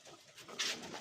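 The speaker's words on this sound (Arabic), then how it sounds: "شوفوا هاي الحمام هذا" Pigeons on a rooftop give a brief, faint, soft coo, heard alone with some light background noise.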